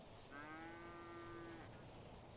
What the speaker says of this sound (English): Was that a cow noise, Arlo?